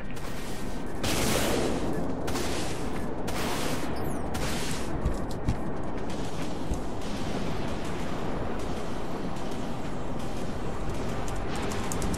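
A barrage of Vulture missiles launches from a warship in Dreadnought, a steady roaring rush of broadband noise lasting about twelve seconds, with clustered sharp bursts early on and no talk.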